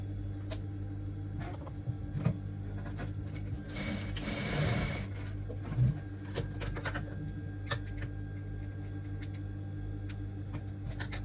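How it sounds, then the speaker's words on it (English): A sewing machine stitching down the raw edge of net fabric for a corset, a steady rapid mechanical whir and ticking close up, with a brief louder burst midway and no talking. "I'm going to place this net under like this, and then I'm going to sew that down."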